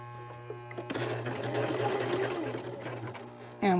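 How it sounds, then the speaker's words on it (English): A sewing machine stitches along a marked line on a large tote bag, running as a steady, close mechanical whir that starts about a second in and continues alone before cutting off near the end. "we're going to start sewing right along that mark."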